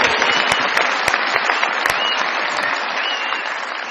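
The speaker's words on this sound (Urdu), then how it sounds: "بہت ساری تالیوں میں ویلکم کیجیے گا" Studio audience on a comedy talk show applauding to welcome a guest, a dense burst of clapping with sharp individual claps that gradually tapers off.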